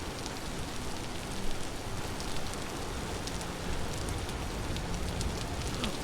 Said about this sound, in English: That shit really do rain all the time.